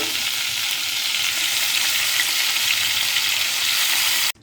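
Paneer fries gently in oil over a low flame for a Bengali cream paneer dish, giving a steady, even sizzle that holds at one level throughout and then cuts off abruptly at the end.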